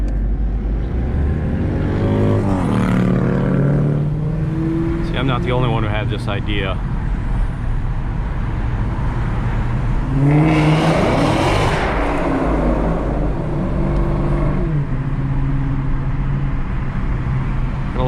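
A car engine revs hard beneath a big, echoing bridge in Wyandotte, Michigan, with several loud rising roars and a small exhaust pop, close and reverberant, and someone briefly talks over it.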